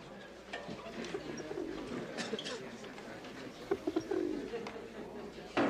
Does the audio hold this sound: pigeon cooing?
yes